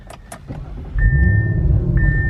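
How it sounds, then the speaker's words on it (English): A 2021 Audi RS5 Black Optic Edition with RS Sport exhaust starting up: a couple of short clicks, then the engine catches at about one second and settles into a steady, loud idle with a thin electronic tone running over it. "Let's turn the car on."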